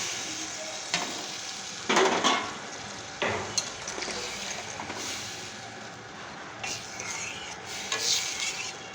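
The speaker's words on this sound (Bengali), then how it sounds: "তারপরে এখন মাছটা আর বেগুনটা দিয়ে দেবো।" Fish and eggplant go into a pan of simmering curry, giving an even sizzle over several scraping and clattering stirs that come in clusters, close by and moderately loud, with no talking.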